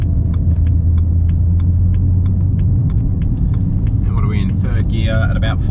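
A BMW fitted with a swapped DCT gearbox and single mass flywheel drives along, a loud steady engine drone with rhythmic ticking, shifting and rising as it accelerates near the end.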